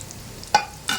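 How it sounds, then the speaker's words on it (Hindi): Mutton patra, a Bohra dish, frying in a pan, with a quiet steady sizzle broken by two sharp scraping bursts from stirring. "इसको अच्छे से फ्राई होने देंगे।"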